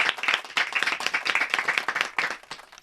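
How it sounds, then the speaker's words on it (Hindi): Enthusiastic applause from a studio or stage audience honouring lyricist Kaifi Azmi, dense steady clapping throughout with slight swells, no talking over it. "जोरदार तालियां कैफी साहब की स्मृति में"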